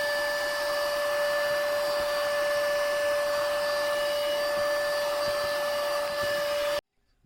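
An FYA wireless handheld vacuum cleaner runs loud and steady, its motor whine holding an even pitch with a hissing airflow, then cutting off abruptly near the end.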